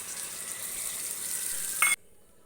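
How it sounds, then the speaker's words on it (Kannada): Water poured from a glass into millet khichadi frying with coriander leaves in a pan, a steady sizzling hiss for about two seconds that stops abruptly. "1 ಗ್ಲಾಸಷ್ಟು ನೀರು ಸೇರಿಸ್ಕೊತಾ ಇದ್ದೀನಿ"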